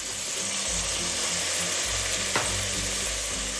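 Green peas frying in a pan with onions and ginger garlic paste for mushroom matar pulao give a steady close sizzle under a low background hum, with no talk.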